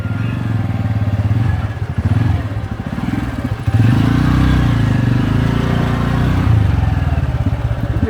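A motorcycle rides along a narrow village footpath, its mid-pitched engine chugging loudly and close throughout with slight rises in revs and some rattling clatter.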